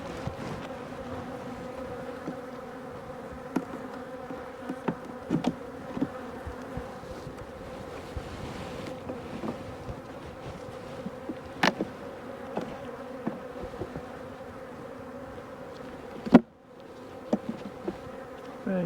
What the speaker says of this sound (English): Get the bees off there.